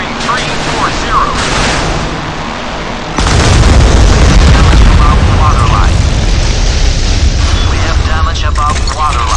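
An incoming missile blast in a naval warship video game: a sudden heavy explosion bursts in partway through and leaves a loud, sustained roaring rumble, with battle-station voices and alarms under and around it.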